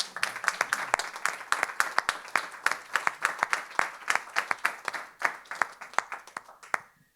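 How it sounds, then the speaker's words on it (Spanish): Audience applause after a talk at an open kitchen event at MACBA, a room of hands clapping with sharp, distinct claps, steady at first then thinning out and ending with a few scattered last claps. "Un aplauso."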